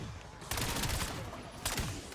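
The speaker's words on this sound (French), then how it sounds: "Ça devait être les feux d'artifice, je pense." Fireworks go off in the Call of Duty: Black Ops 7 Zombies video game, with two loud crackling bursts of rapid pops, like a volley of gunfire, over a dense, noisy background.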